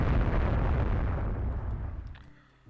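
Naval gunfire from the video game Rule The Waves 3 pounds shore gun batteries in a dense, continuous roll of heavy booming explosions that slowly fade out toward the end.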